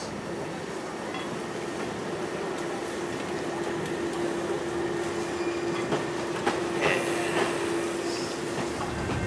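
A trolley train pulls into a station beyond Tehachapi, a steady rumble of wheels on rail with a sustained squealing tone and occasional clacks building as it nears, with no talking.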